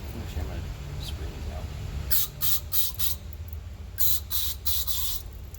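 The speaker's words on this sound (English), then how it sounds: "So actually I'm going to spray" Short bursts of spray cleaner shot into the head bolt bores of a Mercedes M119 engine, several quick hissing spurts in two clusters, close and fairly loud over a low background hum.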